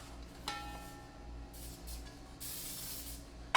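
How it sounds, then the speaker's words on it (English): A short hiss of aerosol spray onto a cake pan close by, over a steady low hum, ending with a brief sharp clatter. "Then spray the rod."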